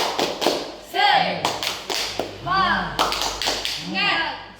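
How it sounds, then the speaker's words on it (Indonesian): A class claps out a rhythmic spirit-clapping chant (tepuk semangat) at a special-needs junior high school, with sharp bursts of hand claps and taps mixed with voices chanting along in a quick pattern. "Tepuk semangat."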